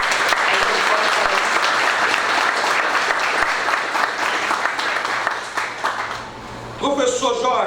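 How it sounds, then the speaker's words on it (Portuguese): An audience at a board inauguration ceremony at IEAA-UFAM applauds the outgoing management, with sustained loud clapping from the room that fades near the end before a voice begins speaking. "eu peço uma salva de palmas de todos"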